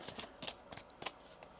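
A deck of tarot cards being shuffled close up, a series of crisp riffling bursts in an uneven rhythm in a quiet room.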